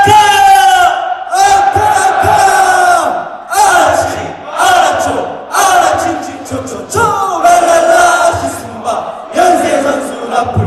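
A crowd of university alumni shouts the Akaraka call-and-response cheer, the Yonsei University chant, at a public administration department evening event. A leader's call alternates with loud, rhythmic group shouts in repeated bursts, close and energetic.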